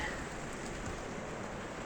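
Steady rain falls nearby, a constant broadband hiss with no voices, even and unbroken throughout.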